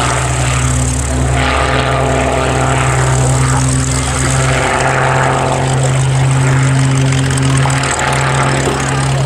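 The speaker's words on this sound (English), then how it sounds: "a beautiful torque roll where he's just hanging there on his propeller" A propeller aerobatic plane at an air show flies torque rolls and tail slides, its engine droning steadily and loudly throughout, with pitch rising and falling as it maneuvers.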